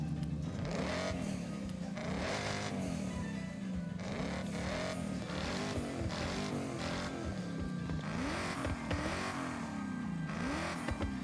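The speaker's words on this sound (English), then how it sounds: "You wouldn't think this is the V6 when you hear it." A V6 engine-swapped car drives in Forza Horizon 5, its engine rising and falling through repeated revs and gear changes, steady and fairly faint with no voices over it.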